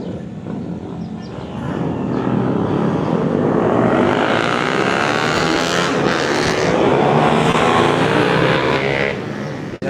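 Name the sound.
155 motorcycle racing at Palawan International Circuit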